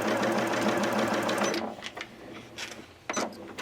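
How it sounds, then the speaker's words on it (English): A sewing machine set to slow speed stitches steadily along a line on a quilt block, a close, even whirring hum for over a second before stopping, followed by a few light mechanical clicks. "I'm going to sew along that line."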